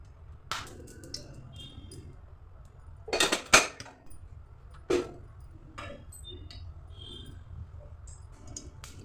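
Metal ladle clinking against a hot kadhai as oil is poured in, a few sharp scraping clanks and taps close by over a quiet kitchen background.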